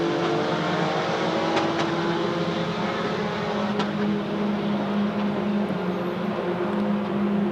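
F4 race cars accelerate through a hairpin, engines wailing loudly and continuously with layered revving as several cars pass close together, no talk over it.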